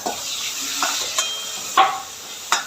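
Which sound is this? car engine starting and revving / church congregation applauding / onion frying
onion frying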